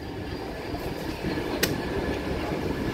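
The Kanchan Kanya Express rolls into Dakshineswar station with a continuous low rumble of wheels and carriages, a steady rattle and one sharp metallic squeal or clank partway through, with no voices.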